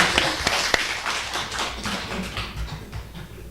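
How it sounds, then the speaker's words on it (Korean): A church congregation at a Sunday worship service claps together: dense, fast patter of many hands, moderately loud and close, with a few sharper individual claps standing out, sustained for a few seconds and no talking. "박수 한번 할까요, 우리?"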